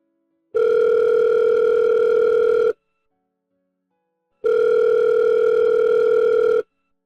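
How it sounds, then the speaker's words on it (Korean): Two long, steady telephone dial tones, each lasting about two seconds with a pause between, sound loud and clear while a call is being placed, with no voices over them. "내가 전화해 볼 테니까 잠시만 시간 줘보세요."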